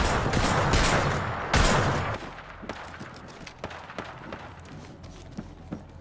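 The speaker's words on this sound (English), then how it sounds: "shots fired and they're hitting me" Gunfire in Apex Legends, a dense burst of rapid shots for about two seconds, then scattered sharp individual shots and impacts that carry on at a lower level.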